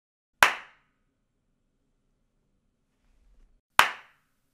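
Two sharp single hand claps in a quiet room, several seconds apart, each followed by a short room echo decay; no talking.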